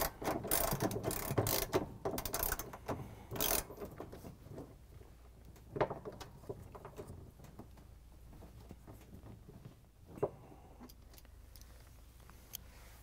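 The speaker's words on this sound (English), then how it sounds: "We're going to grab the 9 inch socket with the ratchet and the extension, tighten it down." A ratchet with an extension and a 9 inch socket tightens down the pulley on a GE washing machine transmission assembly, giving bursts of rapid, close pawl clicks that thin out into quieter, scattered clicks and taps.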